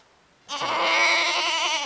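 A young male goat, around six months old and still with milk teeth, lets out a single loud, wavering bleat up close that begins after a short quiet pause and carries on for over a second.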